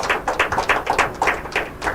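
Applause at an inter-school quiz competition, a short burst of clapping from a small crowd, fairly close and steady, with no speech over it.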